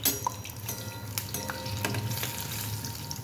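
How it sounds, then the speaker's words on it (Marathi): Vadas frying in hot oil, a dense, steady close sizzle and bubbling with occasional light utensil taps, no speech. "थोडंसं तेल असं वड्यावरती उडवायचं"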